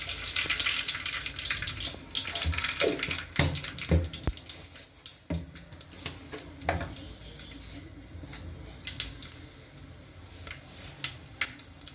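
Mustard seeds and cumin crackle in hot oil for a home-style rasam. Irregular sharp pops and ticks sound close over a soft sizzle and keep going throughout.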